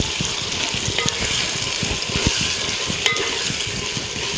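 Garam masala, coriander powder and chilli powder are stirred in a hot pan for capsicum rice, with continuous loud sizzling and frequent scraping knocks of a spoon against the pan, close up and without talk.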